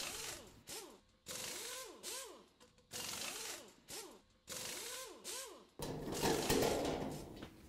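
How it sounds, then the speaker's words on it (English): A 1/4-inch nut driver backs screws out of a dryer's back panel: four short whirring, rising-and-falling bursts separated by pauses, then a longer rougher stretch at the end, all close and fairly quiet. "we have to remove all the screws that hold the back panel on with a 1/4-inch nut driver"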